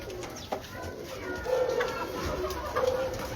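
Breeder pigeons on a Lahore rooftop give soft repeated coos and a few short calls over quiet background murmur, close by and fairly faint.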